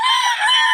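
A rooster crows loudly and close by in a single sustained call, heard alone with no talk.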